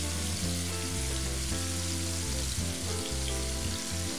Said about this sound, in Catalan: ara els sofregiré en una paella amb oli calent